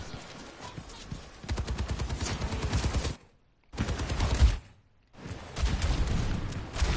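Rapid automatic gunfire in a team shooter match on a payload map, loud sustained bursts of shots broken by two short silent gaps, no talking.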